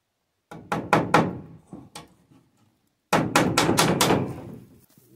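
Sharp hammer blows on wood during a greenhouse or barn build, three quick strikes, a pause with a couple lighter taps, then a rapid run of five or six loud close hits.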